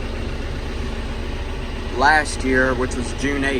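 A John Deere 5M tractor engine idles with a steady low rumble close by, while someone talks over it.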